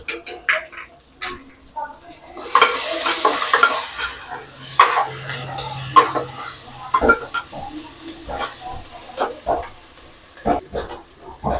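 Ginger garlic paste sizzling and frying with onions in a pan for a bitter gourd and onion curry, with steady stirring and scraping of a spoon against the pan at close range.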